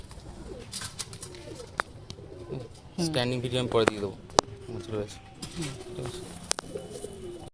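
Madras pigeons, a pair of male and female, coo in soft repeated calls close by, mixed with someone talking throughout.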